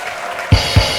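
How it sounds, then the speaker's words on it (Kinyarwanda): A church congregation gives two sharp, close claps about a quarter second apart, loud against a soft background murmur. "Komera Imana amashyi."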